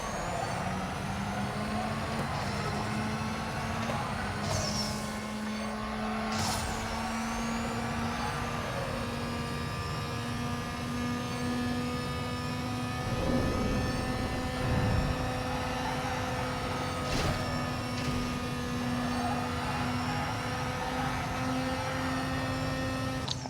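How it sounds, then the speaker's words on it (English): A car in NFS No Limits, a mobile racing game, launches and accelerates with a long, steady engine drone that holds a sustained tone for over twenty seconds at an even, moderate level with no talk. "Now, easier area to launch this car from."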